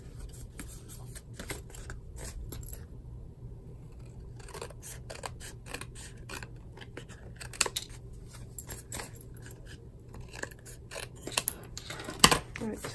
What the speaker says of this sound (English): I'm gonna just trim this off now with my paper snips.